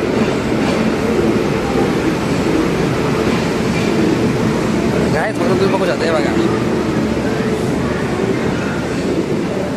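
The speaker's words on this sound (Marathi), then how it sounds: "अभी देखो ट्रेन जा रही है" A train rumbles past a station with steady clattering from the rails, loud and close, while people talk over the noise.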